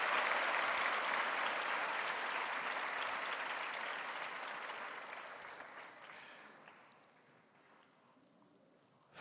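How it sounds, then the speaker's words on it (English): Audience applause at a cultural festival Onam celebration for a Kerala percussion troupe, a dense wash of clapping that starts full and slowly fades away over several seconds to near silence. "Can we have another round of applause for Kottayam Vinesh Marar and party from Kerala?"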